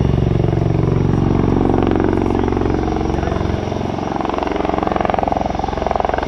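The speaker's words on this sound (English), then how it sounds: "It's now a helicopter, and the sound has changed radically." A CV-22 Osprey tiltrotor in helicopter mode at the 2007 Dayton airshow, moving at roughly 70 mph, gives off a loud, steady rotor thump and engine roar that pulses rapidly and continuously throughout.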